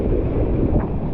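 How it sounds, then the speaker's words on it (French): Gusty sea wind buffets the microphone while wingfoiling, a steady loud rumble with surging gusts and water wash underneath, no voices. "Le vent il est rafaleux comme jamais."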